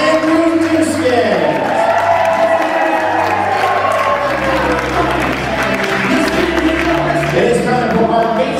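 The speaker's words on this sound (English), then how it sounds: "a round of applause for bridesmaid Nicole Doeschot, escorted by best man Andrew Doeschot" Wedding guests applaud and cheer loudly as a bridesmaid enters escorted by the best man, steady clapping and whoops filling the room for the whole stretch over low music.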